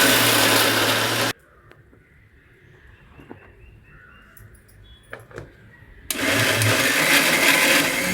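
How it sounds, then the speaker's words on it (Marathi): A small mixer grinder whirs loudly as it grinds cumin and garlic, running in two bursts separated by a quiet pause of a few seconds with faint clinks. "तर आता मी जिरं आणि लसूण फिरवून घेते कारण मिक्सरचं भांडं हे छोटं आहे"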